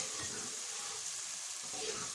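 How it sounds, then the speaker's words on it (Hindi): Tomato paste fries lightly in a pan with vinegar added, giving a soft, steady sizzle at low volume for a couple of seconds, with no speech. "अब इसको हल्के से भून लेना है, और साथ ही हमारे पास ये जो विनीगर है ये इसमें ऐड कर देंगे"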